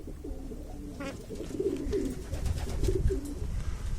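Young pigeon squabs coo softly in a loft, a steady run of low murmuring coos over a faint background hum, close by and continuous.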